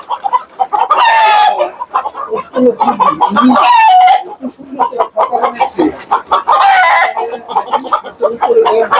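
Chickens clucking and a rooster crowing repeatedly on a poultry farm, loud and close, with a few calls overlapping in a busy, continuous stretch.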